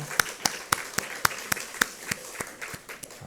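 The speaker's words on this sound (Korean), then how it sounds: "우리 찬송 가운데 임하신 하나님께 감사와 영광의 박수 올려드리겠습니다." Sparse, regular hand claps from a church congregation during an Easter Sunday morning service, a steady beat of separate claps, moderately close and fairly quiet, with no talking.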